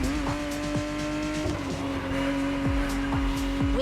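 A Porsche 911 driving in The Crew Motorfest, its engine holding a steady loud drone with repeated sharp upshift sweeps and brief tire squeals, close and continuous with no talk.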